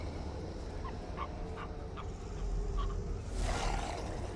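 Dogs snarl and growl in the video game Darkest Dungeon, a series of short yips and snarls over a low droning game ambience, building to a louder burst near the end.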